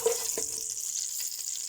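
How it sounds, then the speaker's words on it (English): Spices fry in hot bubbling oil in a pot, giving a steady bright sizzle with a soft stir-like clatter near the start, close and continuous throughout. "You can see the oil is making bubbles."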